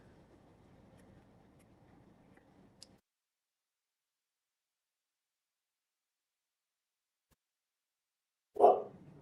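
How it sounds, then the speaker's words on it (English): A single sharp dog bark breaks out near the end after a long stretch of near silence in a home art studio, following a low, muffled rumble at the start. "My terrifying dog is going to start barking."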